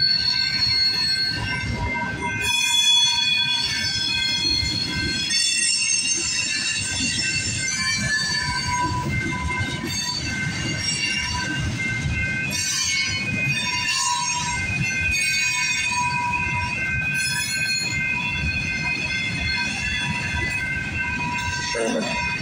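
Canadian Pacific freight train rolling past a rail crossing at night, a steady loud rumble of wheels and cars with high metallic squeals and ringing tones throughout, no voices.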